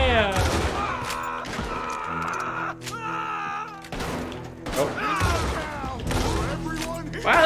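Gunfire in Red Dead Redemption 2, a rapid run of loud shots and booms over game music, repeated across several seconds, with people talking and reacting over it.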